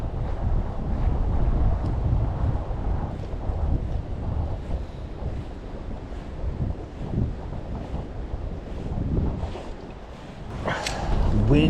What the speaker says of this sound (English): Wind keeps blowing it to the left.